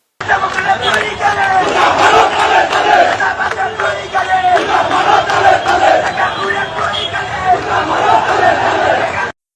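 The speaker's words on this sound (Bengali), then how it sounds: "ওনার সমর্থকেরা রাস্তা অবরোধ করে বিক্ষোভ করতেছে দেখেন দেখেছেন স্লোগান দিচ্ছে" Supporters blocking a road in protest chant slogans loudly and continuously, a dense crowd of voices rising and falling in rhythmic shouts with chatter mixed in.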